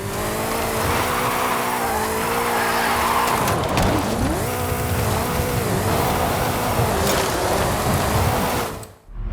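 Supercharged 5-litre V8 muscle car drifting in Forza Horizon 5: loud continuous engine roar with shifting revs and sustained tire squeal, near and steady before fading out at the end.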